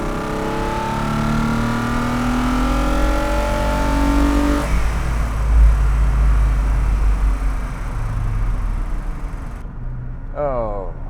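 A Fiat 130 coupé's exhaust roars as the Italian luxury car's engine is revved hard, a loud, sustained rising and falling drone close by, with brief talk at the end.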